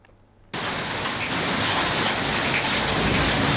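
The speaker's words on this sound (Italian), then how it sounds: "l'impressionante grandinata che ha letteralmente ricoperto verso le 21 strade e campi" Heavy hailstorm around 9 pm in the Bassano, Treviso foothills and Prosecco hills area of Italy, blanketing roads and fields: a sudden loud, dense roar of hail and rain begins after a brief quiet moment, with low thunder-like rumble underneath and no voices.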